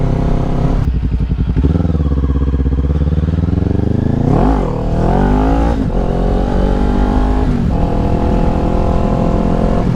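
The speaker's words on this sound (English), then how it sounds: "popping the front wheel up on this bike is a little bit more nerve-wracking than on my bike" A motorcycle engine revs hard, loud and close, its pitch climbing and dipping across several throttle surges with a brief lull midway, steady mechanical roar throughout.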